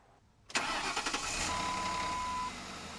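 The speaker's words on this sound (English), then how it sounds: "did you hear that little tiny bit of a quick rattle? It lasted for about 2 seconds when I first started up?" Ford Crown Victoria cold start: the engine cranks and catches abruptly, then settles into a steady loud idle with a brief metallic timing chain tensioner rattle in the first couple of seconds.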